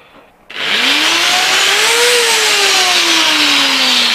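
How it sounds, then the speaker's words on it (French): A cordless power screwdriver kicks on abruptly and runs at full speed, a loud steady whine with a pitch that rises, wavers and slowly sags, on a workbench beside a Yamaha XTZ 660 motorcycle being checked for an oil leak. "on va regarder avec la visseuse"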